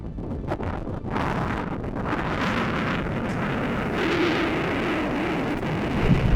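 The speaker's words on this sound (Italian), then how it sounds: "Vi facciamo sentire per 5 secondi il suono originale del vento." Strong wind on the Etna crater buffets the microphone in a continuous, heavy rumbling roar with gusty swells and low thumps, loud and unbroken with no talking.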